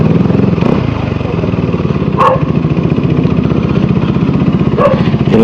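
A motorcycle engine runs at a homestay near Kudremukh, idling in a steady, rhythmic throb close by, with two brief sharper sounds breaking in partway through.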